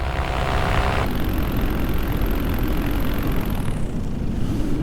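A paramotor engine drones steadily in flight low over an airstrip, loud and close, with constant propeller and wind roar and a high whine that fades near the end.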